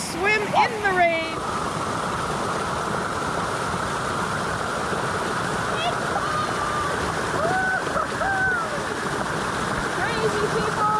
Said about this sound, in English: Crazy people swimming in a waterfall.